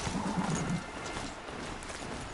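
Mechanical horse mount galloping in the Horizon Zero Dawn video game, a quick run of clip-clop hoofbeats up close that fades after the first second into a steady background wash.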